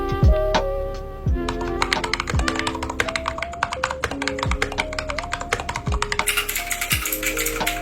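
Rapid, crisp keystrokes on a budget mechanical keyboard fitted with Jwick Linear Black linear switches, a close, steady flurry of soft clacks with occasional heavier spacebar thocks, heard alone.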